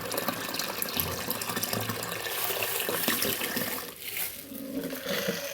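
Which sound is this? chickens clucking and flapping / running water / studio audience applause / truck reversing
running water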